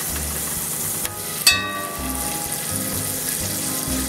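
Two tablespoons of butter melting in a hot pan, a soft, steady sizzle under a low background hum, with a brief clink of a utensil partway through.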